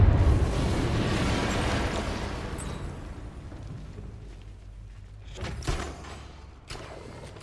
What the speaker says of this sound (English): I need to be at a safe distance before I detonate.